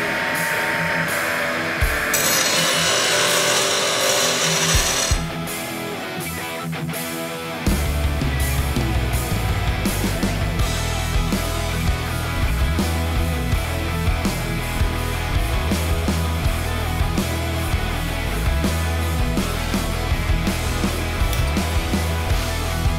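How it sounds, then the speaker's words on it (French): A stationary bench grinder roughs out a knife blank made for a 3D-printing-based knife project, giving a loud, steady abrasive roar that briefly changes pitch and then settles into a continuous grinding drone. "je vais utiliser ma meule stationnaire donc pour vraiment dégrossir"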